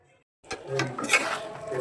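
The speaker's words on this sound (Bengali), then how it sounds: "তো এই পর্যায়ে আমি এটাকে ঢাকনা দিয়ে ঢেকে দিলাম।" A lid settles over a pot of spiced beef cooking on a stove for dal gosht. After a brief silence comes a sharp metallic clink, followed by soft rattling and a low, ongoing cooking noise.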